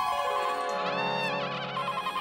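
A telephone ringtone plays a bright melodic electronic tune, fairly loud and alone, with repeating tonal phrases.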